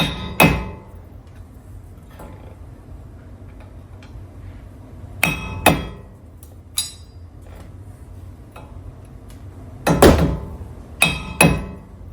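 Sharp metallic hammer taps knock at a dust cover on a third-generation Toyota Tacoma wheel hub, coming in scattered single and paired strikes with quiet gaps between them, close and loud.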